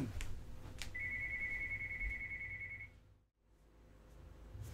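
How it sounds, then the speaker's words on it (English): A telephone rings once with a steady electronic tone lasting about two seconds, faint and somewhat distant over low room noise, followed by quiet. "the phone is ringing"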